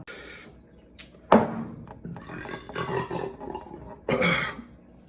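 A man burps after drinking beer: a sharp close eructation followed by a long rumbling gurgle, then another loud throaty burp near the end, no speech.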